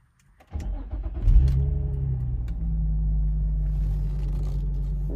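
A 2006 Infiniti G35 cranks briefly and its engine catches, then settles into a steady, close, low idle rumble, heard alone without talking.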